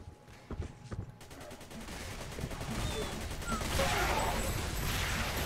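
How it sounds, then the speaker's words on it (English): Rockets fire from a launcher in the Xonotic first-person shooter game, with a few sharp early shots followed by a dense, roaring barrage of blasts and explosions that builds steadily louder. "Yeah, so I switched to the rocket launcher."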